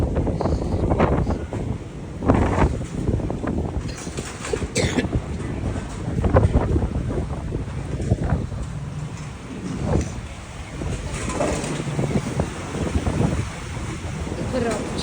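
Steady wind buffeting close to the microphone on the deck of the cruise ship Disney Wish, with low rumbling gusts rising and falling throughout, and a voice talking over it at times.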